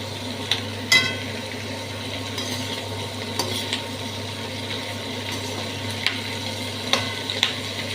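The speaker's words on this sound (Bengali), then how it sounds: "এবার একটু ফটফটটা কমো" Vegetables, onion stalks and prawns fry in oil, a low steady sizzle with scattered sharp crackles and pops and a few utensil knocks, heard close and without speech.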